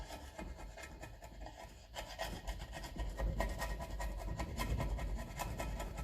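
Rasping, scraping strokes of cleaning grease out of a part on a 1954 Ferguson TEF 20 diesel tractor, close and repetitive with a steady rubbing rhythm, no talking.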